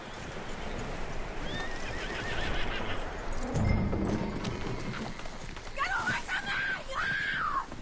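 A horse whinnies loudly twice in the video game Red Dead Redemption 2, its neighs rising over a steady bed of hoofbeats and outdoor ambience, with a brief thud midway.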